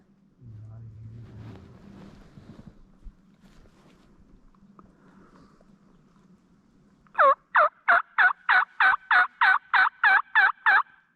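A wild turkey gobbles in a rapid, loud rattling series after a stretch of quiet murmuring voices and low background rumble.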